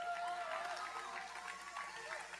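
A rally crowd at a One Billion Rising event in Miami claps as a soft, distant patter under a steady crowd murmur and a few faint voices.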